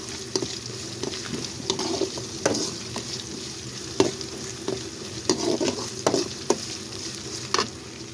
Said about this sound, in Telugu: అల్లం పేస్ట్ అయితే వేసాను బాగా వేయించుకోండి